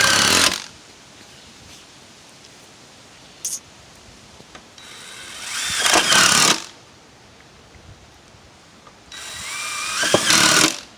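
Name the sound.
power drill driving screw into metal roof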